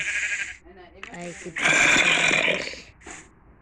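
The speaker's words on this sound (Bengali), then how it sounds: "একটা ভেড়াও আছে" Sheep bleating in the Minecraft video game, a few short nasal bleats in bursts, with a louder, longer bleat in the middle, set against quiet game ambience and a nearby speaking voice.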